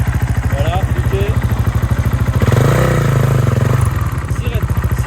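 A motorcycle leaned over in a drift U-turn, its engine thumping in a fast, loud pulse close by, swelling into a brief rev midway before settling back to the throbbing idle-like beat.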